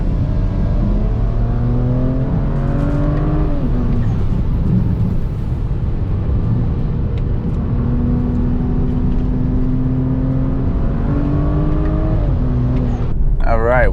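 Engine of a turbocharged BMW 335i E93 convertible heard from inside the cabin, pulling hard through rising rev sweeps and gear changes, loud and continuous, with someone talking over it.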